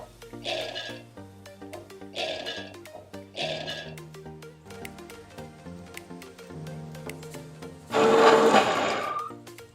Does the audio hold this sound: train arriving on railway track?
no